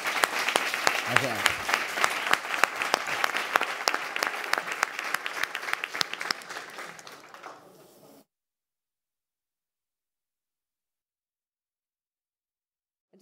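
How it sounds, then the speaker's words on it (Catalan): Conference audience applauding at a social internet event, dense clapping for about eight seconds that fades out before silence, with a brief spoken thanks. "aplaudiment, no?, abans de marxar-nos."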